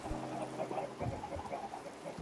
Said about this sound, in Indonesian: Ayam banyak weh kat sini.